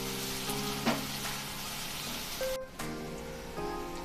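Finely chopped onion sautéing in oil with Kashmiri chili powder for dhaba-style Kolhapuri whole masoor: a steady, close, hissing sizzle with occasional soft clicks and one brief dip in the middle.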